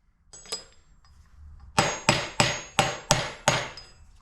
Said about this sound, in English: I'm going to start with a hammer and then move on to the press.